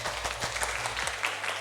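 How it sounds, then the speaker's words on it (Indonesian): Students in a classroom clapping for one another after a group discussion, a short burst of scattered hand claps from a small group, fairly close. "Tepuk tangan untuk kalian semua."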